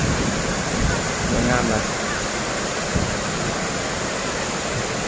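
Tat waterfall near Xepon in Savannakhet, Laos, roars as a constant broadband rush of falling water close by, with someone briefly speaking over it.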